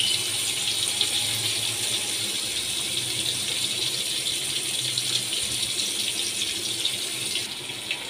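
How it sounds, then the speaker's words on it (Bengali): Onions fry in hot oil with a continuous close hiss and bubbling crackle, broken by faint rattling of utensils, no voices over it. "তেলের মধ্যে আমি পেঁয়াজ দিয়ে দিচ্ছি।"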